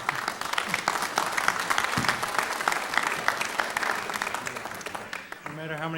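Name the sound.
audience applause at town meeting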